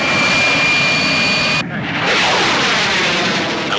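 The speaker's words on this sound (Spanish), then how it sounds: "32 aviones norteamericanos cruzan el cielo de la ciudad de Hoc Sa" Loud roar of American military jets, F-101s among a formation of thirty-two, crossing overhead above a Vietnamese city during an afternoon air raid, a steady broadband rush that briefly dips then swells again as they pass.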